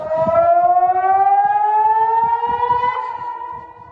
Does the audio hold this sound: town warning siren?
yes